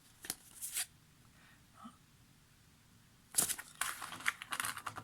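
Oracle cards being shuffled at close range, in two bursts of crisp riffling and slapping, a short burst near the start and a longer, denser run toward the end, with a quiet gap between.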